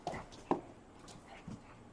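A small toy dog at play gives a few soft, short whimpers and yips, quiet and spaced apart.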